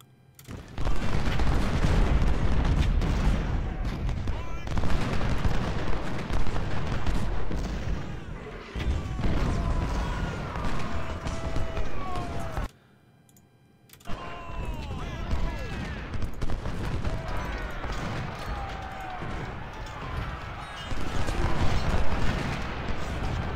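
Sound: musket volleys and gunfire, video game Ultimate General: Civil War

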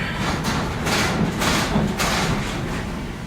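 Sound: train starting to move

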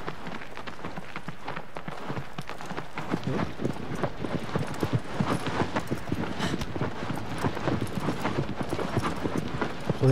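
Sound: horse hooves galloping in a video game

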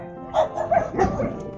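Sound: dogs barking at dog shelter

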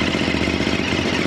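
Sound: Ducati Monster SP motorcycle engine

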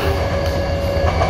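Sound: Commuter Line train passing at a station

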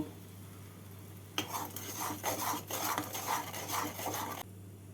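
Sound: stirring salt, turmeric and sugar into poppy seed paste

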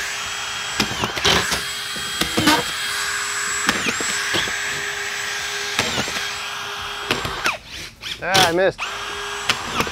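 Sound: Senco cordless drywall screw gun driving screws into studs

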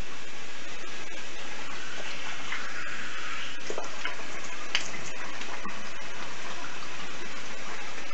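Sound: water splashing while rinsing the face

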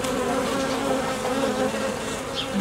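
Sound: honeybees in a hive

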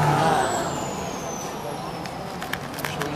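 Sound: pickup truck passing on a main street

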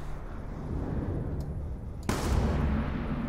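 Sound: gunshot in Call of Duty: Black Ops II video game

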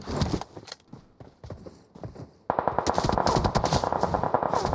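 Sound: gunfire in a fight in video game PUBG Mobile

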